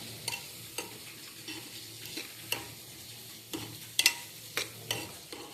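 Coriander is stirred into masala rice in a pan, a quiet, steady sizzle broken by irregular scraping strokes of the spoon against the metal, a few sharper clinks among them.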